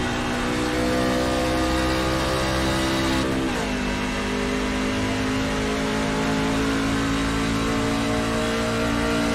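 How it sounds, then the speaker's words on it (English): Onboard engine sound of a race truck at Nashville in a racing video game, a loud steady drone with a pitch drop around a downshift partway through, then a sustained hum; no voices. "He's definitely the one downshifting."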